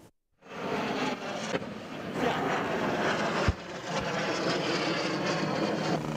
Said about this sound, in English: Combat aircraft of the Nigerian Air Force in a display of tactical maneuvers and delivery of firepower